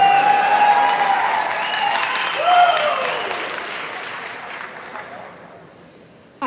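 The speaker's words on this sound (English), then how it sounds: "You should give yourselves a big round of applause." Loud audience applause fills a bodybuilding posing clinic at a MuscleContest event, a voice or cheer rising briefly over the clapping midway before the ovation gradually thins and fades toward the end.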